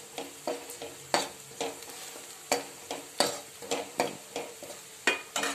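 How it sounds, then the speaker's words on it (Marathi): Spices with turmeric and asafoetida being sautéed in a pan along with red chilli powder and black masala, giving bursts of stirring and scraping over a soft sizzle that recur in an uneven rhythm, close and moderately loud with no talking. "थोडा घरातला काळा मसाला टाकते, थोडीशी हळद टाकते, थोडा हिंग टाकते, छान परतून घेते"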